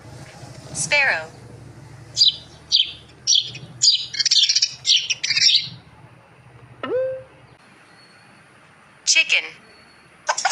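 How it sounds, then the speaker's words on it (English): A sparrow gives a run of quick, sharp chirps in short bursts, clear and close, followed by a pause and then a few more scattered calls. "Sparrow."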